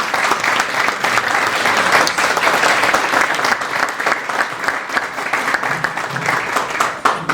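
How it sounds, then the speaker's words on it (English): Sustained, dense applause from a standing audience at a Network of Champions event, steady and loud throughout the clip with no talking over it. "Let's give him a big round of applause."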